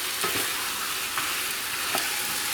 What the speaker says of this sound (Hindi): थोड़ा सा भून लेंगे थोड़ी देर के लिए, तकरीबन 3-4 मिनट भूनेंगे